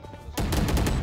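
A Phantom rifle in a video game opens up after a brief quiet moment, a rapid, loud string of close automatic shots.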